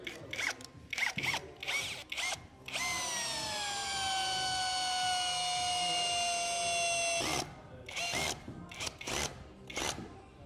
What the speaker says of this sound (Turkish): Şöyle ikinci vidamı da atıyorum.